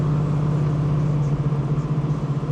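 A 1971 Chevrolet Camaro Z28 with a 383 stroker V8 and smooth-shifting gearbox drones steadily under load, a constant low engine hum heard from inside the car, loud and even with a slight wavering toward the end.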